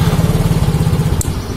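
A Yamaha Mio GT scooter with a short circuit, which blows its fuse when switched on, gives a loud, close, pulsing engine-like drone that cuts off abruptly with a sharp click about a second in.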